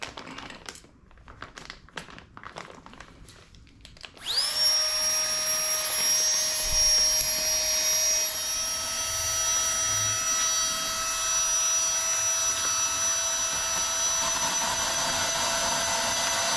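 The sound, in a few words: electric air pump running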